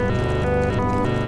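A synth pad with an added pulse modulation oscillator, its pulse modulation set low and semitone raised, sustains a dense, buzzy chord with faint rhythmic pulsing, steady and alone throughout.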